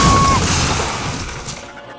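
A loud, sudden smashing impact at the very start, followed by a rumbling, crackling wash of noise that slowly fades.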